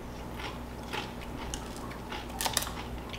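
Crisp crunching bites and chewing of whole fried cichlid skin sound up close, a few sharp crackles standing out against quiet background.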